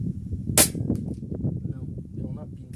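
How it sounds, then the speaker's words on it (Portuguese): A single sharp crack from a PCP air rifle firing an M60 slug in strong wind at a 60-metre range, standing out once against steady low wind rumble. "Mais um disparo com vento forte."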